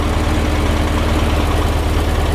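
A late VW air-cooled engine idles with a steady low, lumpy pulse, loud and close, running evenly on its own without any voices.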